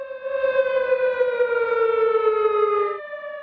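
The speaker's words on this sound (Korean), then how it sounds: "3분간 공습 경보가 울립니다." An air raid siren sounds across Ulleungdo island, a loud, steady, slowly falling wail that cuts off near the end with no voices.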